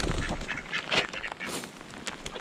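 Ducks quack and honk in a rapid, overlapping cluster outdoors on a chilly day in a backyard near a chicken coop, fairly close and loud with no talk.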